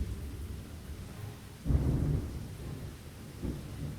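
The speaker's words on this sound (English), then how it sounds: "If it doesn't stop raining, this barrel is going to overflow." In the video game Lost Horizon, a low rumble of thunder rolls in midway over steady rainfall, then fades back into the soft, constant patter of rain, with a fainter rumble near the end.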